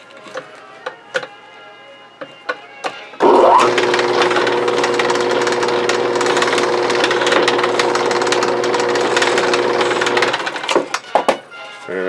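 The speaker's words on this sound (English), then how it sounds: "And there you have the holes drilled." A drill bores holes in a homemade bait box to take wire, starting after a few sharp taps and running as a loud steady whirring grind for several seconds before stopping, followed by more clicks and knocks.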